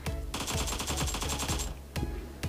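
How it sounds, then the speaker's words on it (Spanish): Rapid automatic gunfire rattles in a long burst, followed by a couple of separate single shots, loud and close, in the video game PUBG Mobile on the Erangel map. "he sentido unos disparos por aquí"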